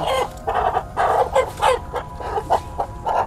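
A black Ayam Cemani chicken clucks in a steady series of short, close, moderately loud calls, heard alone with no talking.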